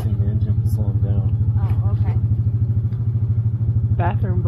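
An ATV engine idling and chugging with a steady low rhythmic throb in Alaska while snowhook sled dogs pull it, loud and close throughout, with voices talking over the running motor.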